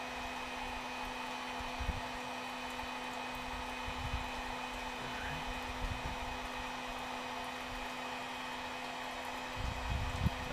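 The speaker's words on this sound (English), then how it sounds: "But the heat gun doesn't get bothered by the wind there as much" A heat gun blows steadily outdoors while a fishing rod is repaired, making a constant airy whoosh with a fixed hum, fairly quiet, with a few faint bumps and handling knocks.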